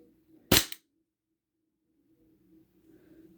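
A single sharp, close crack from a SIG Sauer P226 airsoft pistol rings out alone, followed by a near-silent room with a faint low hum.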